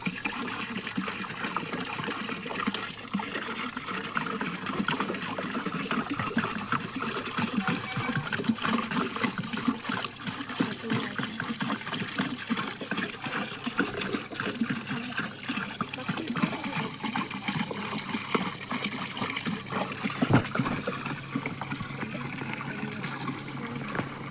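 Cow urine pours into a large container of water to make jeevamrutham, a continuous splashing gush that runs without a break, close by and fairly loud throughout.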